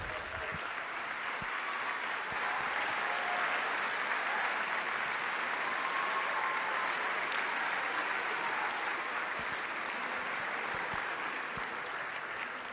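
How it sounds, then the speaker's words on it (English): Sustained audience applause fills an indoor hall at a senior night of reflection, where students awarded grants or scholarships stand for recognition; dense, steady clapping runs throughout without a break. "please stand so we can applaud their achievements"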